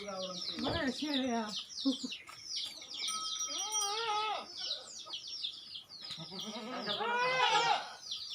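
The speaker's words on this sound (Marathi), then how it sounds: "हा शेळ्या." Several goats bleat repeatedly, wavering cries overlapping at moderate distance, with birds chirping high in the background throughout.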